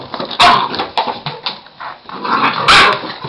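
Young puppies bark loudly in sharp bursts, mixed with whimpers and low growls, close by, with no talking.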